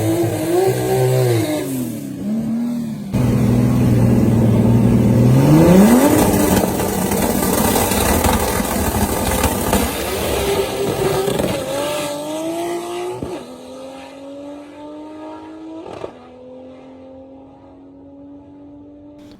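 A BMW 135i with an N54 engine, built as a drag car with a 6-speed manual, launches and accelerates hard down the quarter mile, revving loudly and rising in pitch through several gear shifts before fading into the distance.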